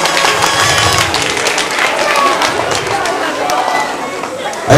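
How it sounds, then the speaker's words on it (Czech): Audience applause and crowd noise at the Masopust carnival in Trmice, 2009: dense, steady clapping filling the whole stretch, with voices talking over it. "tak zatleskáme"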